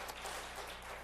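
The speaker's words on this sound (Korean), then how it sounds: "우리를 축복하시다 하나님께 박수로 감사합니다" A church congregation claps together at the end of a worship service, a brief, dense wash of applause heard at a distance.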